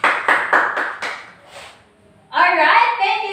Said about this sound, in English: let's clap our hand for the group 1